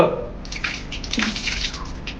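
Cold well water splashed onto a face outdoors, a few close, soft splashes and trickles spread across a couple of seconds with faint background noise.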